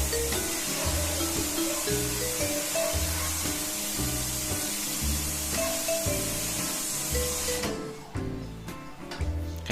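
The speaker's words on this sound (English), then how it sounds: "Try to remove the paint using your pressure washer." A pressure washer blasts a silkscreen to strip paint, giving a loud, continuous close-up hiss of spray over faint background music, then cutting off abruptly near the end.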